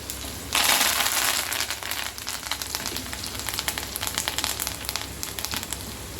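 Curry leaves crackling in hot oil for a gongura and red chilli pickle tempering, a sudden loud burst of sizzling and spattering that settles into continuous crackle.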